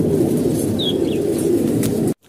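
Pigeons after a mass release of about a hundred birds, low cooing and rustling wingbeats close and continuous, ending in an abrupt cut to silence.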